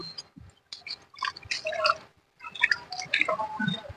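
Wet splashing and dripping as liquid cow-dung fertilizer is poured onto terrace-garden plants in two bursts, with a short pause between them; close by, no voices.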